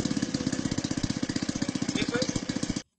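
A homemade helicopter's small engine runs close by with a rapid, regular chugging pulse, loud and rough, then cuts off abruptly at the end.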